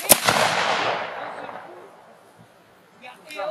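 A squad of about a dozen men fires a rifle volley on command at a commemorative ceremony in Courçay, a single sharp loud crack at once with a long rolling echo fading over several seconds, followed by faint voices.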